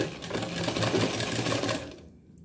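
A sewing machine stitches a quarter-inch seam in one fast, close, continuous whir lasting about two seconds before cutting off.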